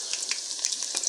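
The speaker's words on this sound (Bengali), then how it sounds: "পেঁয়াজটাকে ভালো করে নেড়ে নেড়ে বাদামি রং আসার আগ পর্যন্ত এটাকে ভেজে নেব।" Chopped onions fry in hot oil in a pot for Bangladeshi white pulao, a steady close sizzling hiss broken by a few light scraping clicks as the onions are stirred, with no voices.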